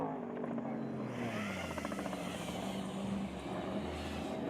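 Ricky Johnson's Black Diamond Mark Post race truck in the NORRA Baja desert rally runs with a steady, moderately distant engine drone, a low pitch sliding down then rising as it passes, heard alone without talk.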